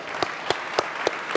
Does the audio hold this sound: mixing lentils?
no